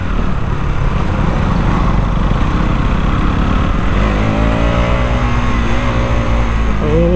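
Right after a downshift, a 2023 KTM Duke 200 carrying rider and pillion pulls hard uphill, its engine roaring loud and near as the revs rise steadily.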